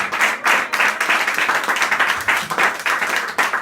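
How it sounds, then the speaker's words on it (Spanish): Church congregation clapping in a loud, rhythmic pulse of repeated hand claps, steady throughout with no talk over it. "¿Cuántos podemos dar un aplauso al Señor por eso en esta hora?"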